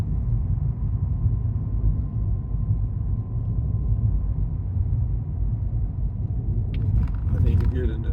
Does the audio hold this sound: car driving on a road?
yes